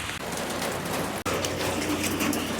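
Steady rain falling outdoors around parked cars, a dense close patter of drops on surfaces, continuous apart from two brief cuts, with no one speaking.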